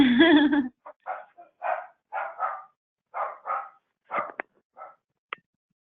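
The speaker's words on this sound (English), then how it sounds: "Whoever has a barking dog, could you mute your line" A short whine at the start, then a series of sharp barks in uneven bursts, some doubled, at moderate volume with pauses between, heard over an online call line.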